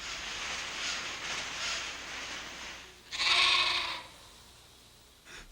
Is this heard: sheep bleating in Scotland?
yes